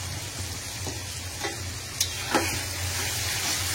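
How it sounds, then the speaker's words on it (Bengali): Onions fry in a pan with a steady, close sizzle and a few light utensil clicks. "এখানে পেঁয়াজটা ভাজা হচ্ছে"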